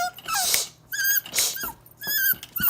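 A Basenji whimpers in a crate, giving high, wavering whines and yips in three or four close bursts separated by short pauses, with soft breathy sounds between.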